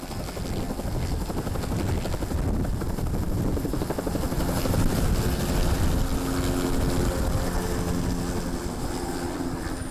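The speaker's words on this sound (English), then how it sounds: "This time the soldiers are piloting two relatively small helicopters." A relatively small helicopter flown by soldiers in the snowy Alps drones steadily and loudly, its rotor chop and engine hum holding constant throughout with no other sounds.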